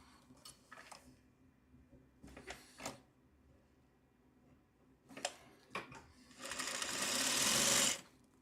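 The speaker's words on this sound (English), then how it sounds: "let's sew this on right now" A sewing machine stitches fabric in short bursts of rapid mechanical whirring separated by pauses, ending with a longer, louder run, heard close and alone.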